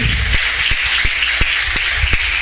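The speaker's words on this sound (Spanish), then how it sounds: "Un fuerte aplauso a Jesús" Congregation applauding for Jesus at an evangelistic church service, a dense steady wash of clapping with periodic sharper claps or beats punctuating it at roughly even intervals, with low thumping underneath.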